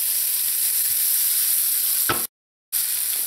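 Mushroom fried rice with onions, celery and chopped pimento peppers sizzles steadily in a pan while being stirred, a continuous loud frying hiss with a brief scrape before a short dropout.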